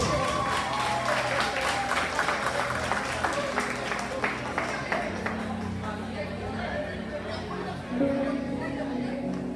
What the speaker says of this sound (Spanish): Fuertes los aplausos para todos ustedes